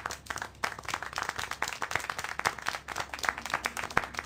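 Applause and clapping in the video game Syberia: The World Before: a run of quick, steady handclaps, fairly soft and unbroken for several seconds.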